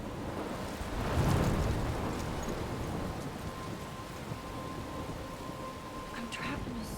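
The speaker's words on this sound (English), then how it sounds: "I'm trapped in a storm?" Stormy weather in the video game Life Is Strange: steady rain and wind hiss throughout, with a low rumble of thunder swelling early on, then fading into a constant rainy wash.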